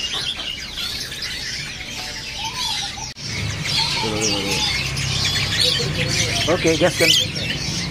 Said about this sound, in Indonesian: Ada juga burung jalak nias gacoran ya.